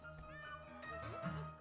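A cat meows in the heist video game Monaco: a short, faint, whining call with a rising and falling pitch.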